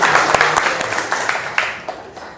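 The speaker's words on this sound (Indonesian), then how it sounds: "Tepuk tangan." Students in a high school classroom clap their hands, a burst of many sharp claps that starts loud and thins out into scattered individual claps as it fades.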